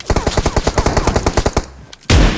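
Rapid bursts of gunfire from PUBG Mobile, about fifteen evenly spaced loud shots in quick rhythm, then a short pause and a sharp final blast, with no talking.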